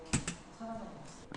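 A couple of quick key presses on a computer keyboard while using drawing software, two close clicks followed by faint room noise.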